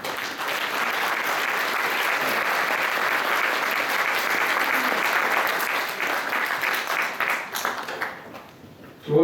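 A gathered assembly at a basic income campaign launch applauds to adopt its founding declaration, a long, full, steady round of clapping that thins and dies away near the end.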